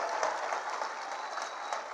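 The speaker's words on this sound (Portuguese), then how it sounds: "agora uma salva de palmas de verdade para o Camilo Santana." A large crowd applauds at a political rally in Ceará where Lula is speaking, a continuous wash of clapping heard at some distance and fairly faint, with no voice standing out.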